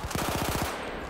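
Automatico submachine gun firing in a video game, a single rapid burst of about eight sharp shots within half a second, loud and close, trailing into a short fading echo.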